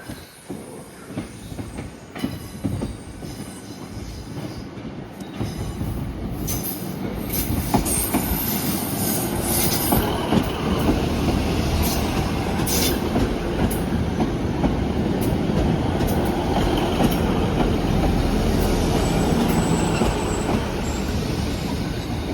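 A train rumbles steadily nearby at a Devon station platform, its broad low rolling noise building after a few seconds and holding loud, with faint clicks and squeals on top.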